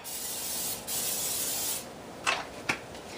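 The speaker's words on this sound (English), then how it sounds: "I'm going to spray the inside of this small" Cooking spray from an aerosol can sprays into a small crock pot in two long hissing bursts, close up, followed by a couple of short sharp puffs.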